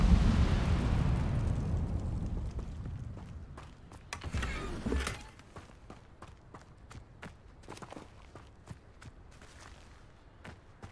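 An Incendio fire spell cast in Hogwarts Legacy gives a loud, roaring fiery whoosh that swells midway and then fades. Footsteps and soft scuffs tick along before and after it.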